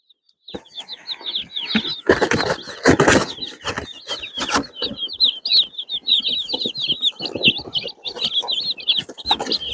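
Baby chicks that arrived by mail chirp constantly in a high-pitched chorus, close and lively, mixed with rustling and handling noises from the shipping box.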